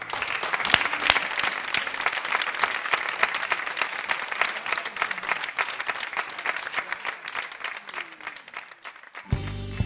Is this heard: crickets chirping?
no